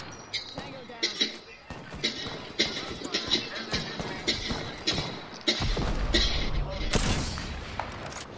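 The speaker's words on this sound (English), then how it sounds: "And also someone shooting." Gunfire in the Apex Legends battle royale game, repeated sharp shots and thumps in irregular bursts throughout, with game action and some loud noise toward the end.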